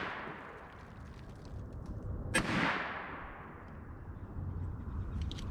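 A single sharp shot from a Lorcin L25 pistol loaded with 50-grain copper-jacketed bullets over HP-38 powder, fired outdoors, with a brief decaying echo over a faint ambient background.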